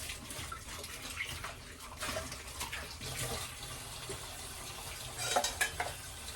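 Dishes being washed at a home kitchen sink: running water splashes steadily while plates and pots clink now and then, with a brighter clatter near the end.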